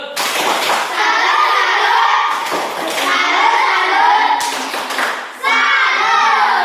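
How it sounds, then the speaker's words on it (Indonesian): A classroom of students claps together for a group that has just finished presenting a math answer, a dense continuous patter of hands lasting several seconds, with children's voices mixed in. "Beri tepuk salut."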